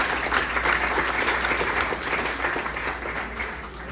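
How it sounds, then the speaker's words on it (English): Dense, sustained applause from an audience at a nurses' health care event, loud and continuous throughout without pause. "So let's give Shawnee and Flow Magic a round of applause."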